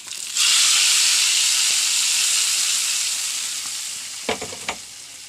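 Steady, loud oil sizzle as curry leaves and dried red chillies hit hot oil, continuous hiss with a few sharp crackles and spatters near the end.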